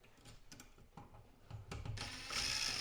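A square tip screwdriver turning screws on a recessed electrical outlet, giving a series of close, light ratcheting clicks and scrapes that build into a denser, louder rasp toward the end.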